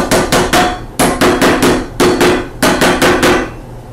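Hammer tapping a tin can lid shut on an 18th-century style ice cream can, a series of sharp metallic knocks in quick groups of three to five, close and loud, with no talking.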